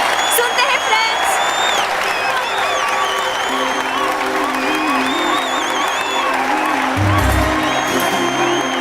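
Audience applause and cheering fill a hall during a poem recital, a dense continuous clatter of clapping with whoops and crowd voices mixed in, with music underneath.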